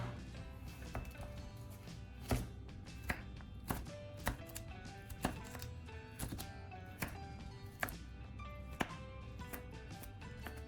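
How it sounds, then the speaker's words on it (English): A knife chops carrots into small, even pieces on a board, producing rapid, irregular sharp taps close up that run steadily throughout with no talking. "Peel them and cut them into small, even pieces so they cook quickly"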